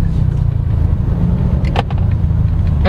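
Engine of a 2022 Honda City RS sedan with a CVT heard from inside the cabin while shifting up and down simulated gears, a steady low rumble with subtle shifts in pitch and a few brief clicks.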